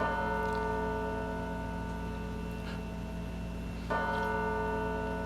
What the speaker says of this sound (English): Starts off with the bells.